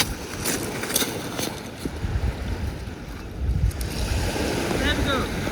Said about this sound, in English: there we go, that's the sea